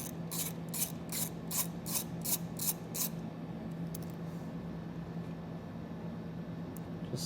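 A 10 millimeter wrench ratchets a nut off a battery post during a supplemental braking system install, giving about eight quick clicking strokes in a row, then a low steady hum remains.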